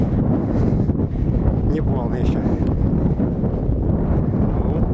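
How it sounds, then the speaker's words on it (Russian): Heavy, frosty wind over an open field buffets the microphone in a constant low roar, while a person speaks briefly over the rumble. "Это ветер дует."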